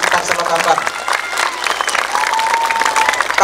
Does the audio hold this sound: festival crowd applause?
yes